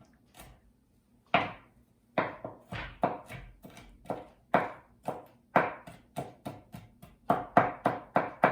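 A knife mincing two garlic cloves sprinkled with salt on a cutting board while vegetable soup is prepared, heard as a steady run of sharp, close chopping taps that speed up toward the end, with no talk.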